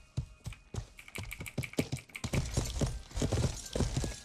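Horse hooves pounding in a steady, quick gallop while riding in a video game, with distinct close thuds that grow denser and louder toward the end.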